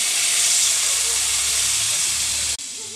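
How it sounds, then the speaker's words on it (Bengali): Water splashed onto spice masala frying in a pan sends up a loud, steady hiss of steam close by, holding strong for a few seconds before cutting off abruptly. "মশলাটা ভালো করে ভেজে নিয়েছি, এরপর সামান্য জল দিয়ে কষিয়ে নিচ্ছি।"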